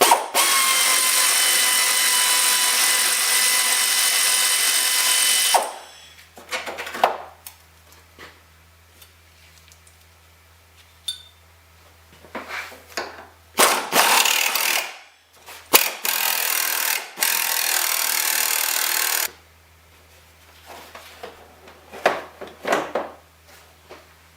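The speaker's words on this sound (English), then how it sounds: "Take off these bolts here that hold the rad in place." A power tool runs in loud bursts while removing the radiator bolts on a 2002-2006 Nissan Altima V6: one long whir, then two shorter runs separated by quieter clicks and handling noise, with no talking.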